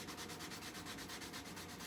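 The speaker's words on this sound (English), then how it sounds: "I'm going to go ahead and do a final little brushing with the sponge" A roughly 220-grit sanding sponge brushes the edge of a kydex piece with quick, rhythmic back-and-forth scrubbing strokes, soft and close.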